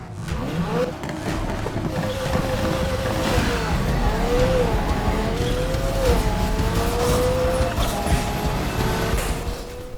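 Several cars race in Need for Speed Heat, their engines roaring and revving together with pitch sweeps from shifting, tire noise and sharp turbo blow-off whooshes, loud and continuous from start to finish with no clear talking.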